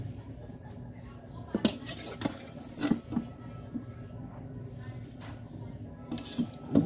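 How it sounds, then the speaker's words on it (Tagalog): Biko rice mixture being stirred in a pot, with intermittent scraping and clinks of the utensil against the metal over a quiet background and a voice speaking between the stirs. "Halo-haloin hanggang sa mahalo."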